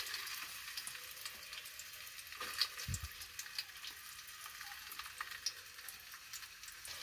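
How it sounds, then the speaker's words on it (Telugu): Onions frying in hot oil for a Telangana-style fish curry, with a faint, steady sizzle, light crackles and one soft thump. "నూనె కొంచెం వేగాక ఉల్లిపాయలు వేసుకోవాలి"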